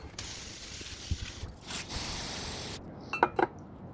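Carburetor cleaner sprays in a steady, close hiss onto sponge strips, with a brief pause mid-stream, then stops, followed by a few soft handling clicks.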